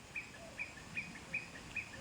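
A bird in a jungle during the late monsoon season gives five short, evenly spaced chirps about every 0.4 seconds, faint and distant against a quiet background.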